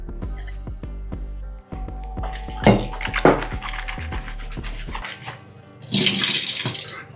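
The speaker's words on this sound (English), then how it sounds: "Rinse my mouth out with some water." Tap water runs into a bathroom sink while someone rinses their mouth after brushing with an electric sonic toothbrush, with sloshing and spitting and a loud rush of water near the end.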